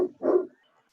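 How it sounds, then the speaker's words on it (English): Two quick barks from a dog that is agitated at deer in the backyard, close and fairly loud, with the second bark fuller, then quiet. "sorry if you hear my dog barking."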